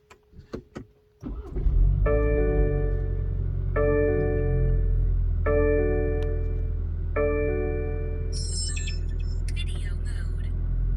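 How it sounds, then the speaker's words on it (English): A car engine cranks and catches after a few faint clicks, then settles into a steady idle hum while four repeated chime tones ring over it and a brief electronic jingle follows near the end. "Now let's start the car."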